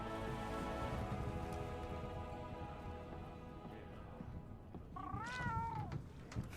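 Palico cat companions in Monster Hunter World give a short, rising-and-falling meow near the end, heard over a soft background of game ambience and light rain-like patter, with no talk.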